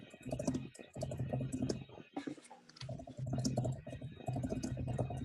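Quick, irregular clicking of keys on a computer keyboard continues throughout, with a brief pause midway and faint room noise beneath.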